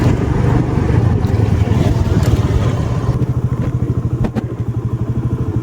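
A motorcycle being parked: its engine chugs loudly and evenly up close, then falls into a slower, pulsing idle with a few dull thumps and clatters.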